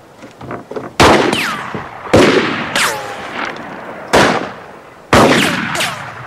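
Loud rifle shots crack out in an outdoor western gunfight scene, five sharp reports spaced about a second apart, each ringing with a trailing echo and whine-like ricochet tails.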